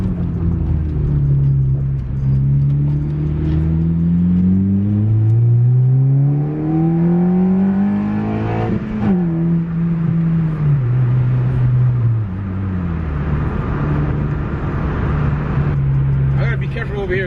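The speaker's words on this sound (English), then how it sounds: "You guys definitely can hear the intake." A car accelerates hard in a street pull, its engine and intake note climbing steadily through the gears with rising whine, shifting, then settling into a cruising drone, loud and close throughout.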